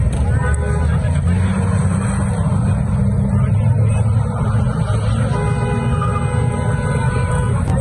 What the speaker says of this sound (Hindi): ऊपर से जो है ड्रिफ्टिंग इतनी कर रहे हैं कच्चे डब्बे वाली